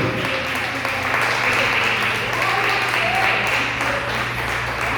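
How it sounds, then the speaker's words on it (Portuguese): Congregation applauding in church, a dense, continuous roar of clapping at full volume throughout, with voices and shouts mixed faintly underneath. "Aplauda Jesus bem forte nessa noite."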